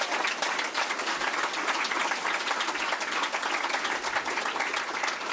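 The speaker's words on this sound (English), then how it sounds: "So a big round of applause for all of the candidates." Loud, sustained applause from an election night crowd at a South Australian Liberal party event, dense continuous clapping cheering the candidates without a break.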